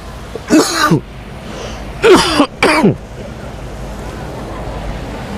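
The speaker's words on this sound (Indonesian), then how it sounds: "Saya ini sedang batuk sebetulnya" Three harsh coughs, one and then a close pair, over a steady background hiss, no talking.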